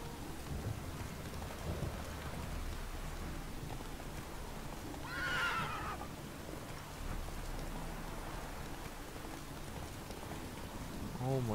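A horse in The Witcher 3 gives one clear, rising neigh midway through, over a constant bed of rain, with distant rumbles from the game's storm ambience.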